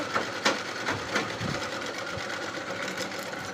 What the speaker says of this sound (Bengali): এই ড্রেসটা সেলাই করছি।